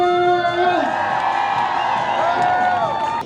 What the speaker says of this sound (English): Get loud for your jumper! Good cheering.